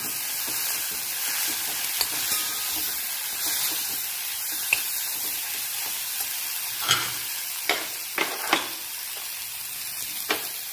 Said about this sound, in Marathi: हे 2 मिनिट परतून झाल्यानंतर आपण हे हरभरे शेंगदाणे टाकून त्याला मस्तपैकी परतून घेऊ.